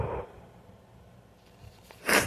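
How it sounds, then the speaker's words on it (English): A single short sneeze bursts out near the end after a quiet pause, close and fairly loud, with a faint breath at the start. "I'm gonna sneeze, hold on."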